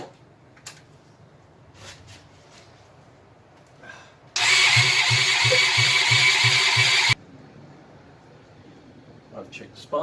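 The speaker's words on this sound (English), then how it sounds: "I'm just going to spray that in the engine. If it starts, then I'll carry on." A budget motorcycle engine is cranked over with a starter for about three seconds, a loud, rapid pulsing whirr that fails to catch, framed by quiet clicks and handling noises.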